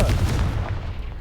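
A single booming blast from the Confringo spell in a magic video game, loud at the start and decaying into a rumbling tail.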